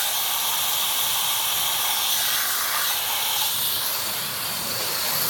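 Running water rinsing out the cavity of a freshly processed chicken on a processing table: a steady, loud, continuous hiss and spray with no break and no talking.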